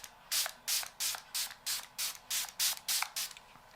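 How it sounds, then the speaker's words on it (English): D'Alba First Spray Serum with white truffle misted from a pump bottle in nine quick, evenly spaced hissing spritzes, close and crisp with short gaps between. "It's D'Alba First Spray Serum, hydrated and radiant skin."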